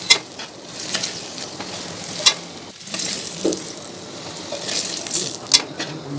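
Potatoes fry in hot oil in a pan for a chicken curry, giving a steady broadband sizzle with occasional sharper crackles and clinks of a stirring utensil against the pan, close and continuous throughout with no talking.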